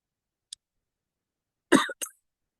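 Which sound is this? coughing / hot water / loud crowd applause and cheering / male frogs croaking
coughing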